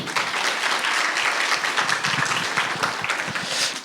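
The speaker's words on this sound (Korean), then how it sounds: "우리 찬양팀 박수 한번 쳐주세요." A congregation at a church camp worship service applauds the worship team, dense and sustained clapping filling the room at an even, loud level.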